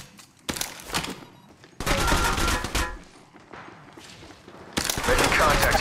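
Bursts of automatic gunfire from the mobile video game Apex Legends Mobile, loud and close in several separate volleys, with a character voice calling out between shots.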